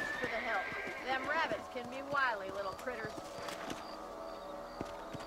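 A horse in the video game Red Dead Redemption whinnies loudly in a few rising-and-falling neighs while hooves clip-clop, with someone talking over it.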